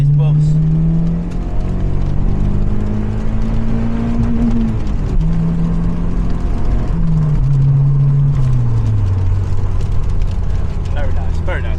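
A loud, low engine drones inside a modified Mazda MX-5, its pitch rising and falling as the throttle changes, with someone talking over it.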